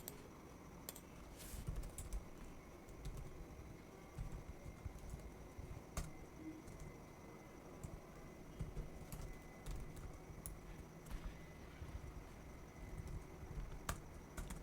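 Command being typed on a computer keyboard for network switch configuration, a faint, close run of quick, uneven key clicks with occasional louder keystrokes over quiet room tone.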